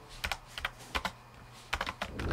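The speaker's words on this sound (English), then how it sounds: "So I recently picked up the Logitech MX mechanical mini keyboard. I really love the clicky clacky sound." Logitech MX Mechanical Mini keyboard with brown switches being typed on, close and crisp, short clusters of clacking keystrokes separated by brief pauses, with no voices.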